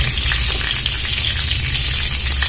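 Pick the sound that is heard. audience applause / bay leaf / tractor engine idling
bay leaf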